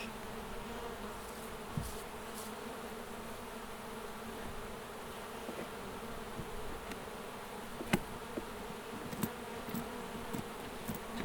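A dense, steady buzz of many honeybees fills the air around an open hive while frames are worked, with a few faint clicks and knocks from handling mixed in.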